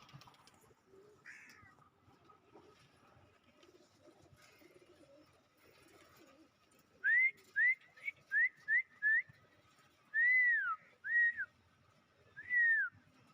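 Crows and pigeons gather close together, and a run of sharp, clear bird calls comes in quick bursts, then longer calls with short gaps, heard up close over a quiet background with no talking.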